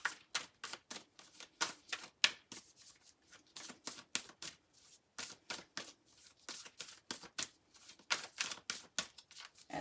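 Tarot cards being handled and drawn from a deck, with a quick run of crisp, close flicks and riffles in bursts across the whole stretch, no talking.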